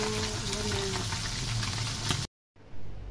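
Fish and dried fish frying in a pan for breakfast, a steady broadband sizzle and crackle that runs loud and unbroken, then cuts to a brief silence before a quieter sizzle resumes.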